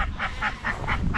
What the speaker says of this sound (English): That leaves us with 3 Indian runner ducks.